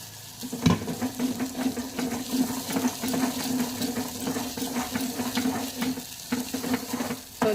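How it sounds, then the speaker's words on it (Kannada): Water poured into a pan of fried masala, the cooking water from boiled sprouted horse gram, making a continuous rushing, bubbling pour with a sharp splash near the start, close and loud, with no voices. "ಆಮೇಲೆ ನೀರು ಹಾಕ್ಕೊಳ್ಳಿ"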